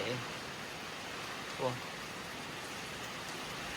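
Steady heavy rain hissing evenly throughout, with a brief low thump partway through.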